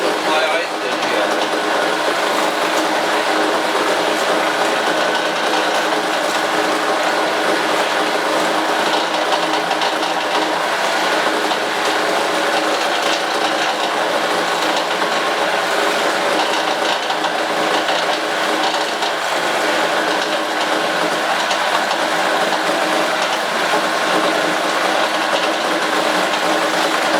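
A buffalo cutter chops meat with ice, its loud, steady mechanical whirring and churning running continuously with a dense, grinding texture and no break in the noise.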